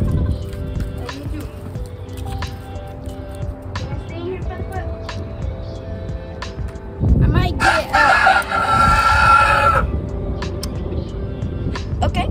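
Chickens on rural farmland, with a rooster crowing and hens clucking over steady outdoor background noise; the loudest calls come in a burst midway through.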